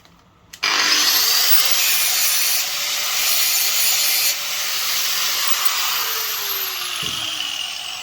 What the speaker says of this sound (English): Go with the grinder.